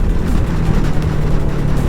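A Tekken 250 cc motorcycle goes by on a road, a loud, steady engine drone with a low hum throughout the short moment.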